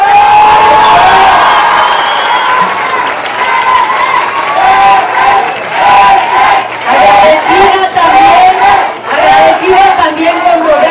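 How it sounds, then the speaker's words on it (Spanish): Large crowd at a Día de Reyes community event in Cuauhtémoc, loud applause with shouts and cheers and rhythmic surges of clapping, while a voice speaks over the noise. "Les pido un fuerte aplauso."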